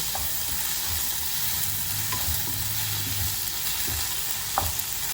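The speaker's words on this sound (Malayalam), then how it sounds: "ഇതിന്റെ പച്ചമണം പോകുന്നത് വരെ വഴറ്റുക" Chopped tomato, green chillies and ginger-garlic paste sauté in a pan in a home kitchen, giving a steady, close sizzle with occasional soft stirring scrapes and no voices.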